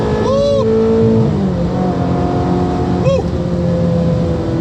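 A Ferrari 355 or 360 fitted with a Capristo exhaust accelerates, its loud engine note rising and shifting pitch as it pulls, with a second car passing briefly; someone speaks over it.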